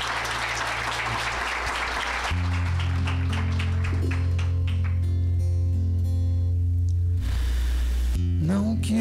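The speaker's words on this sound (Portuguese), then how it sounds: "vamos aplaudir" Audience applause rises in a brief burst at first, then gives way to sustained low musical tones and humming that dominate, with clapping only briefly evident.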